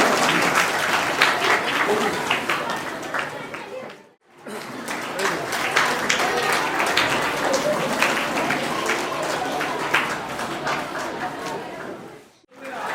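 Sustained applause from an audience fills a scholarship ceremony for students from the Sundarbans, dense and even clapping that dips briefly twice before swelling again.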